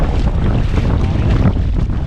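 Strong wind sweeps across open water during a fishing trip, roaring and buffeting the microphone in a dense, unbroken rush with no voices.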